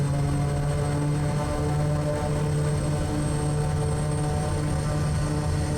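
Turboprop aircraft engine in a flight simulator game spooling up, a loud, steady droning hum with a strong tonal whine that holds throughout, no speech.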